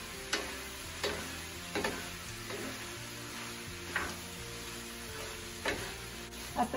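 Fried rice with soy sauce just added, stirred in a pan over gentle sizzling: a spatula scrapes and taps at irregular intervals, quiet and close, with a steady faint hum underneath.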